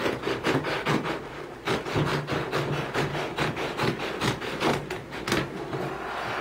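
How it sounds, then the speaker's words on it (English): A hand saw cuts an oversized wooden board down for a jewelry box build, giving a steady run of rasping back-and-forth strokes, close and fairly loud, with no talking. "So I'm just going to cut off a section of this because this is too big to work with."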